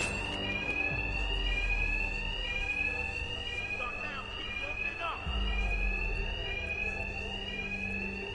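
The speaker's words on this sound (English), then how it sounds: "My attacks will be covered by the noise of the alarm." A fire alarm in Batman: Arkham Knight blares steadily throughout, loud and continuous, with brief background voices and low thumps mixed in beneath it.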